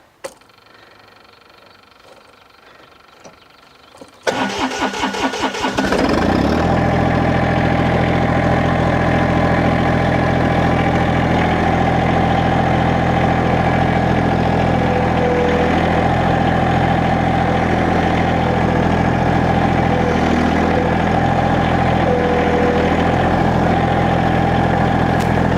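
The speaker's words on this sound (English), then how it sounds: "we're just going to fire the tractor up now" A Massey Ferguson GC series compact tractor engine cranks after a quiet stretch, catches and settles into a steady, loud, close idle that runs on evenly with a constant low drone.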